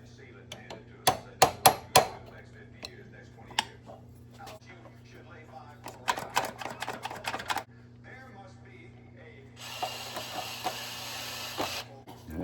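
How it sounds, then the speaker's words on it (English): Hammer strikes on a metal punch driven through an old jar lid in a workshop, a cluster of sharp close knocks early on, then scattered taps and a burst of rapid impacts, over steady background hum. "Punch and a hammer."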